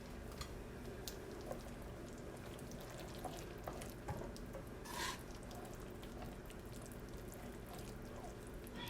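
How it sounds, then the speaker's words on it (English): Flour or cornstarch mixture whisked into southern fried yellow corn cut fresh off the cob, a soft continuous bubbling sizzle with light scraping and whisking strokes in the pan, quiet and close, no talking. "Whenever I incorporate flour into things or cornstarch mixture, I like to whisk it in."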